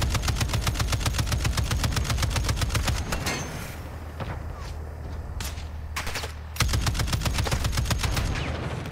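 Video-game gunfire during an MRAP platoon battle: rapid automatic bursts fire close and loud, pause for a few seconds of quieter rumbling and scattered shots, then a fresh burst resumes.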